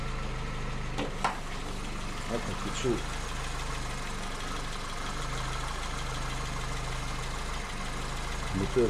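An idling car engine rumbles steadily close by, with faint uneven shudders and occasional knocks; someone talks quietly over it.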